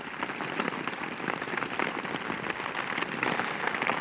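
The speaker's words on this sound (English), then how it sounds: "you have to sit through the pouring rain" Steady heavy rain pours down in the Oregon wilderness, a dense hiss of drops pattering on surfaces, loud and continuous throughout with no voices.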